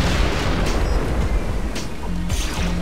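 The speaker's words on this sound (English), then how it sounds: "Flip that switch and destroy the outer heat sink." Explosion of the outer heat sink being destroyed in the video game Descent 3: a dense, rumbling low boom that fills the whole moment, with scattered sharper bursts near the end.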